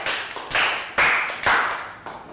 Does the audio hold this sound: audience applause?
yes